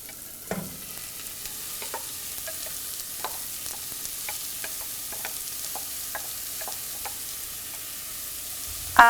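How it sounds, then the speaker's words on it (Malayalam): Raw mango and green chilli, with softened onion and salt, sautéing in a pan, a steady sizzle broken by repeated stirring clicks and scrapes of a spoon against the pan, close and moderately loud, with no talking. "ആവശ്യത്തിന് ഉപ്പും ഇട്ട് വഴറ്റുക"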